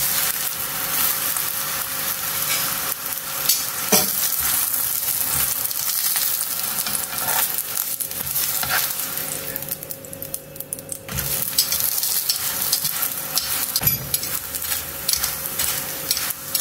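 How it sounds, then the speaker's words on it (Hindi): Naan frying in hot oil after kebabs gives a steady loud sizzle with crackling and occasional stirring or utensil clicks throughout. "इसी तेल के अंदर हम नान को फ्राई करेंगे।"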